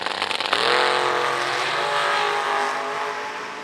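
Drag racing cars, including an Oldsmobile Cutlass, launch with a loud, close engine roar that rises sharply, then holds a sustained high-revving howl as they pull away.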